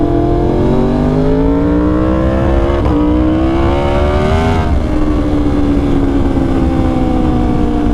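Yamaha R1 superbike fitted with an SC Project CR-T exhaust, its engine revving hard and climbing through the range, then easing back to a steady high drone, loud and close throughout with no talk.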